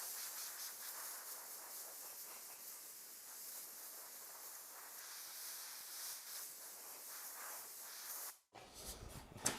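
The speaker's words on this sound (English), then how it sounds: "This is a piece of a brake line in my little air nozzle that I put together." A steady, fairly quiet hiss of compressed air streams from a homemade nozzle built from a piece of brake line, the air assist for an xTool D1 Pro 20-watt laser cutting half-inch cypress wood, ending in a few brief clunks.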